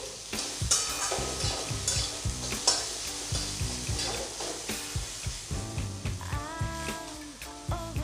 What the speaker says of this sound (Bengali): এবার আরও 1 মিনিট মতো ফ্রাই করে নেব।